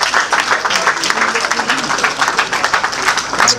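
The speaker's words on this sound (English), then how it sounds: "Please, another round of applause for him." Audience at a birthday lecture applauding the speaker, loud continuous clapping with a rapid, dense texture throughout.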